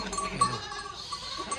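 Goats and kids on a Rajasthan goat farm, with soft bleating and animal movement close by under a steady ambient background, no clear talk.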